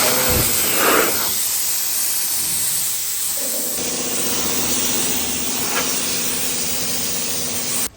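Compressed air hissing through a blower nozzle as it is sprayed over an aluminium tinny boat hull, harsh steady bursts with a compressor engine running beneath, close and loud, cutting off at the end.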